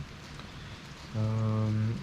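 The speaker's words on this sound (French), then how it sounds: "il pleut sur Boucan." Rain falls over Boucan on Réunion island, heard from a balcony as a steady soft hiss, joined midway by a low sustained droning tone.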